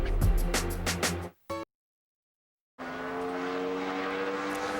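NASCAR Sprint Cup race cars in 2012 qualifying at Richmond: a loud engine roar passes, cuts abruptly to silence, then a steady, more distant engine drone returns.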